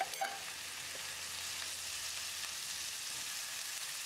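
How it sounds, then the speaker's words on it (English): Ginger garlic paste sizzles in a hot pan during kidney bean masala cooking, a steady, even frying hiss with no voices over it. "What you have to do is to put in ginger garlic paste, 1 good teaspoon"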